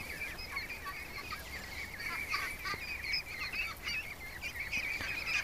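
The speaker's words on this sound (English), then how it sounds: "Come on, little ducks." Ducks quacking and honking in a flock being herded into a pen, a busy chatter of calls throughout, moderately near over steady background noise.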